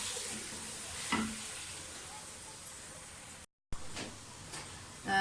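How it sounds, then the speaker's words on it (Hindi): Raw peas tipped into a frying pan of oil for pulao, a soft steady sizzle with a few stirring scrapes and a brief bump, heard close; speech-like sounds may be present. "अब इसमें मटर डाल दें।"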